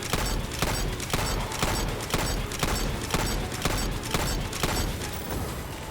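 The Xenophage heavy machine gun in Destiny 2 fires at a boss: loud, evenly spaced heavy shots, about two per second, with booming impacts and game noise.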